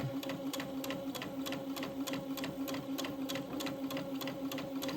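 A sewing machine stitching straight over a dress's front seam, producing a continuous rhythmic ticking clatter over a steady motor hum, close and uninterrupted by speech.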